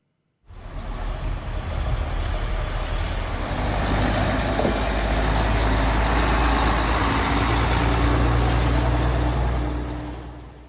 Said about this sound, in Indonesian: truk-truk yang membawa alat berat dari Mesir memasuki kota Gaza, Palestina